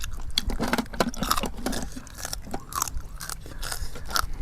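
Someone eats a spicy apple snail salad up close, producing repeated crunchy bites and wet chewing over several seconds.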